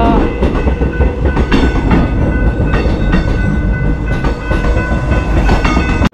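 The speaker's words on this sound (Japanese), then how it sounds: "反対側の電車" A train rumbles loudly past close by in Melbourne, with rhythmic clatter of wheels on rails throughout and no talking.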